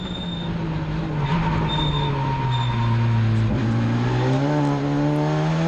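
A Renault race car at speed, its floor scraping the track surface, gives a continuous loud engine drone with rising harmonic tones and a grinding, scraping texture, close and steady with no talking.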